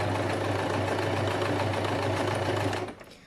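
A sewing machine runs steadily, stitching a trouser side pocket with a fast, even mechanical whir that stops abruptly near the end.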